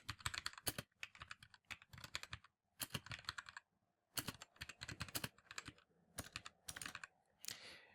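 Quick bursts of typing on a computer keyboard, close and crisp, with clustered keystrokes separated by short pauses and one longer gap midway.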